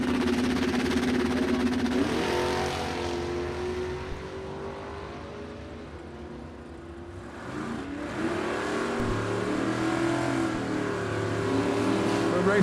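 A 1967 Camaro with a 454 big block drag races a 1953 Studebaker at the strip. Loud engines roar and rev steadily throughout, rising and falling as the cars run.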